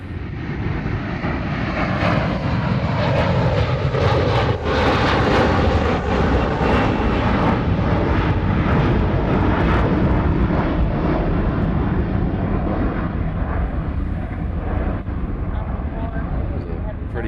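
An Airbus A330 jet departs Honolulu airport with a loud, steady, broadband engine roar that holds without a break throughout.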